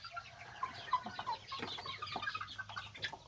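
Chickens from a jungle fowl and bantam cross cluck softly in scattered, uneven bursts, faint and nearby, with a little rustling.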